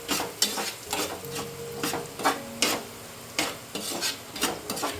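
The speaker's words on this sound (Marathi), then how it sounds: "आणि मस्त मसाल्याला परतवून घ्यायचा आहे" Wild monsoon vegetable stirred with masala and salt in a pan, a spoon scraping and clinking against metal in an uneven rhythm over a soft sizzle, close and without talk.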